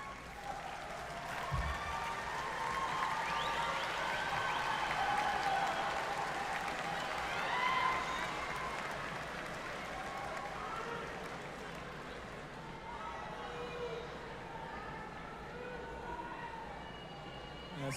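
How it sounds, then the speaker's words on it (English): At a 2022 spring university commencement ceremony, a large crowd applauds parents and loved ones, with sustained, fairly distant clapping and scattered cheers and whistles that swell and then slowly fade. "So would you stand and give your parents and loved ones a round of applause for getting you to this point?"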